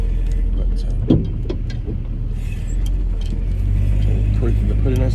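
A car engine runs while driving, a steady low in-cabin rumble with road noise, a brief knock early on and the drone swelling slightly near the end.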